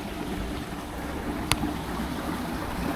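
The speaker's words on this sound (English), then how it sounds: "The river looks to be quite high this morning. Plenty of water flowing through." A river running high after plenty of water, a steady broad rush of flowing water near and even throughout, with one brief sharp click midway.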